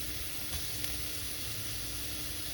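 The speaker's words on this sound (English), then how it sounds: "I've sauteed the onion in about a tablespoon of olive oil. Now I'm going to take a teaspoon of fresh garlic" Fresh garlic and onion sizzling in about a tablespoon of olive oil, a faint, even hiss of frying that holds steady throughout with no voices.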